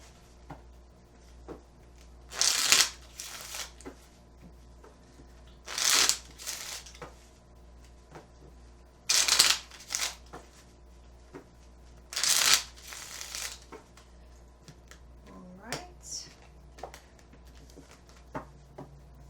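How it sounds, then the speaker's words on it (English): Four loud bursts of tarot cards being shuffled, each a crisp riffling rush lasting about a second, separated by quiet pauses, with a faint soft rustle near the end. "Just give me a moment while I shuffle the cards for you."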